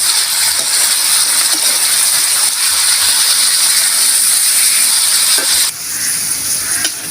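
Pork and mung beans sauté in hot oil for a Filipino monggo dish with bitter melon leaves, giving a steady, loud crackling sizzle throughout with faint scraping clicks, no voices.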